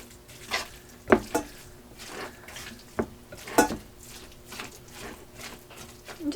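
Fresh homemade pumpkin puree being stirred in a bowl for pumpkin bars, with faint soft scraping strokes and a few sharper clinks of a utensil against the bowl, quiet and close, with occasional kitchen background noise.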